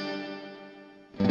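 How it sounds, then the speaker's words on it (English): A CoolMusic BP-Mini battery-powered busking amplifier with reverb set to 12 o'clock: a sustained tone decays with a springy, washy tail, then a fresh, louder strummed note cuts in at the end. "Here's the reverb at 12 o'clock."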